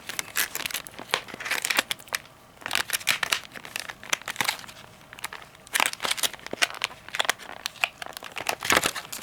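Plastic wrapping on a Cardfight Vanguard Debut of Divas trial deck crinkles loudly up close and tears in bursts. The sharp rustling carries on alone throughout.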